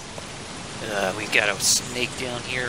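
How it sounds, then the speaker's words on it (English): Steady rain in the survival video game Don't Starve: Shipwrecked, a continuous hiss of drops running under a voice talking over the game, with short brighter in-game effects in between. "And it's raining and lightninging."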